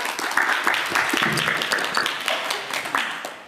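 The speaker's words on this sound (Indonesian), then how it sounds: "terima kasih banget tepuk tangan teman-teman" Audience applause at an Indonesian student inspiration talk, a steady patter of many hands clapping close by for a few seconds with a voice briefly present underneath.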